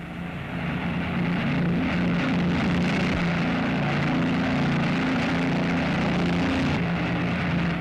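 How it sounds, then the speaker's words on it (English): Four-engine bombers assembling at an airfield fill the scene with a loud, steady propeller-engine drone, a thick continuous roar that holds level throughout. "Three forces of 4-engine bombers assemble at dozens of airfields."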